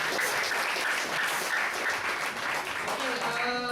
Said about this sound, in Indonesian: Oke, kasih tepuk tangan untuk Pak Bibi.